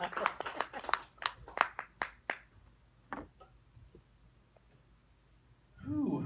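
A small comedy-show audience gives scattered, uneven claps that thin out into a few isolated smacks, followed by a pause before a voice starts talking.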